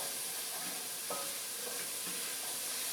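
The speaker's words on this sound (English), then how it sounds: "So I got this onion in here, getting it sauteed up" Onion sautés in a pot for refried beans, a soft, steady close hiss of sizzling with a faint stirring scrape.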